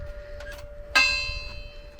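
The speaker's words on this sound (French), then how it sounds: "Voilà, ça actionne la cloche." A metal bell, rung by lifting and lowering its lever, gives a single bright strike that rings and decays over a faint background.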